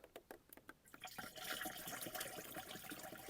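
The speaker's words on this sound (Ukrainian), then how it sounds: "і заливаю водичку" Water poured from a 5-litre plastic jug into a container at a country house, a steady gushing fill that starts after a few light drips and splashes and continues close and fairly loud.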